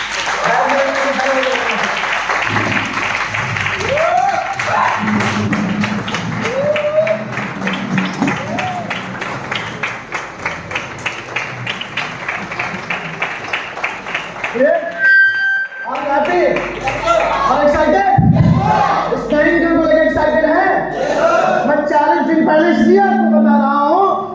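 An audience at a training meeting breaks into sustained clapping and cheering, a loud dense patter that runs for several seconds, with a speaker's voice and scattered shouts over it toward the end.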